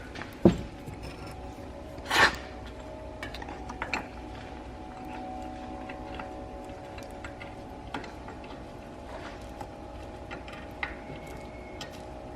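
A BMW F30/F80/F82 airbag suspension part is twisted by hand to line up a bolt hole. It gives quiet, scattered mechanical ticks and ratcheting clicks, with a few sharper knocks near the start, in a calm garage with no talking.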